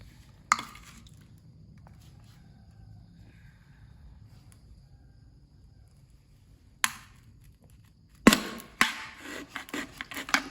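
Sharp crackling pokes and scrapes as cross-shaped holes are punctured in a small plastic bottle for a fish trap. A few isolated bursts lead into a busier, rougher stretch at the end.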